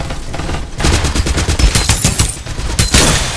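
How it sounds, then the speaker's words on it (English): A rapid exchange of gunfire in the mobile battle royale game Farlight 84, with dense repeated shots and bursts close and loud, almost continuous with only brief gaps. "Direct hit! Exchanging fire!"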